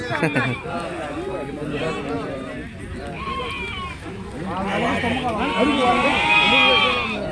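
Goats and sheep bleat repeatedly at a busy weekly livestock market in Kanigiri, with calls rising and falling amid loud crowd chatter and people talking throughout.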